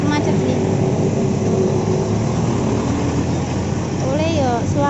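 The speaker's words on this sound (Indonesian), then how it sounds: "Iki rumahnya berisik ya soalnya jalannya iki macet-macet nih." Constant traffic din from a jammed street outside a house, a steady rumble of engines with a high whine near the end, heard under someone talking.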